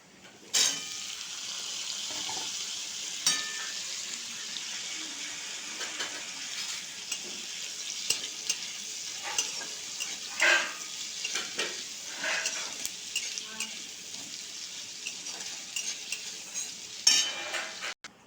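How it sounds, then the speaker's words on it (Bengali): Cut potatoes go into a frying pan for a shrimp and banana flower curry, hissing in a steady close sizzle with scattered clinks and stirring scrapes throughout. "এবার এতে দিয়ে দেবো আলু কেটে রাখা"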